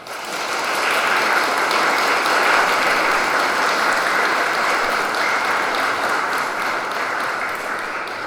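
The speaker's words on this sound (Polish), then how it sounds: "Bardzo proszę dla nich ogromne brawa" Sustained applause fills a church after a wedding ceremony as the congregation claps for the newlyweds, loud and dense throughout, with no voices rising above it.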